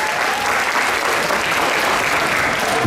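An audience applauds a professor introduced on stage at a university faculty contest in Olsztyn, with steady, dense clapping that fills the room for about three seconds.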